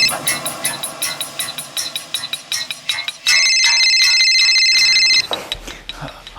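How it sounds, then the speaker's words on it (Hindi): A phone call ringing out in a crime drama: a repeating ringback pattern of short electronic pulses, then a loud continuous electronic ringtone that stops abruptly near the end. "रिंग जा रही है"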